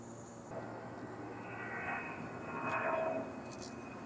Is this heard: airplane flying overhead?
yes